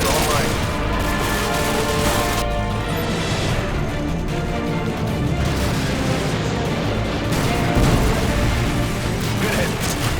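AGM missile strikes and gunfire in the Call of Duty: Modern Warfare 2 campaign mission Contingency: a dense, loud, continuous wash of explosions and shots that never lets up across the whole stretch.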